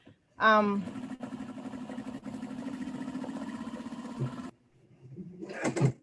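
A sewing machine runs steadily for several seconds, stitching fabric for a drawstring backpack with a fast, even mechanical whir close by. It stops, then a short burst of voice follows.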